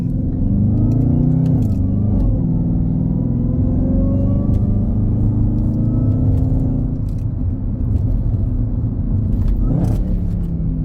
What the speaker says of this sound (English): when you drive this Hellcat, this is how it feels